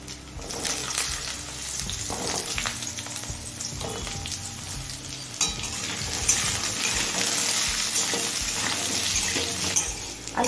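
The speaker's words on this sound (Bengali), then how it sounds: "আলুটা মিডিয়াম ফ্লেমে হালকা লাল করে ভেজে নিয়েছি।" Potato pieces fry over a medium flame in oil with panch phoron spices, producing a dense ongoing sizzle mixed with frequent scraping and shuffling as they are stirred.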